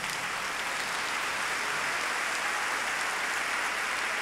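A standing church congregation applauding, a continuous dense hiss of many hands clapping at a constant level, with no voices audible.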